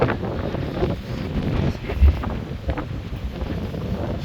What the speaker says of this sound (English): the weather and the wind, as you can hear, it's very high, but it's a nice warm wind